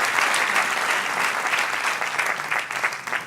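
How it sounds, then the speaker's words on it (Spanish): Steady applause from a church congregation, a dense crowd clapping continuously at an even level throughout. "Denle un aplauso al Señor"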